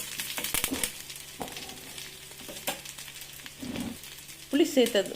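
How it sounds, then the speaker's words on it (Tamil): Onions and a small lump of tamarind sauté in a pan for a no-tomato onion chutney, giving a low, steady sizzle with scattered scraping stirs and a sharper crackle near the end. "அதையும் இதோடு நம்ம போட்டு வதக்கி விட்டுக்கலாம்"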